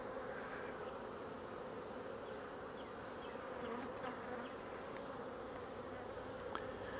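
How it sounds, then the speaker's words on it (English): Many honey bees buzz in a dense, steady hum close by at an open hive, with a few individual bees droning past. "So many bees."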